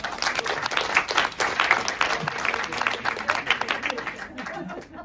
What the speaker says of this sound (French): La tribune a beaucoup applaudi ce qu'elle vient de dire.